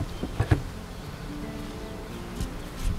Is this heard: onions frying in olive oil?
no